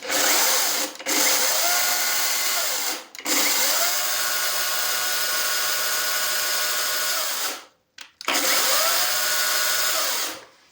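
A YATO YT-828132 cordless brushless chainsaw whines at high speed, revving up and down in several long bursts with brief pauses between, loud and close.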